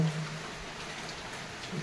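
Rain coming down in a rural part of Odisha, a soft continuous hiss with faint drips, fairly quiet and steady, with no one speaking.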